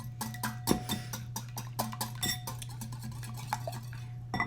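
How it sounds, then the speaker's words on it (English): A milk mixture is whisked in a bowl while baking pumpkin chocolate chip bread, producing rapid, irregular clinking and scraping of the whisk against the bowl over a steady low hum, close and moderately loud. "You're just gonna whisk that together like"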